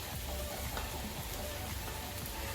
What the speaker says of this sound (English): Now while I am frying these chicken pieces on this pan